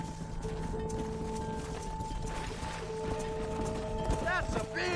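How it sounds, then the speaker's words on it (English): Horse hooves in the Red Dead Redemption video game, a steady clip-clop of a ridden horse with a herd nearby, heard under voices and background game sound. "Control that horse, will you?"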